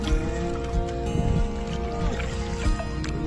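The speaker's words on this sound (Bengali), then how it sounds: "ক্যাম্পিং করতে এসে নৌকা চালাচ্ছি এখন নদীতে" Small wooden rowboat paddled on a village river while camping, with oars splashing and water trickling and pouring close by under a steady, humming background.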